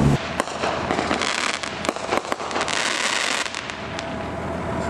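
Fireworks go off on the 24th of July, Pioneer Day, out on the streets in the evening, with repeated sharp bangs and crackling bursts over a constant rumble of distant explosions.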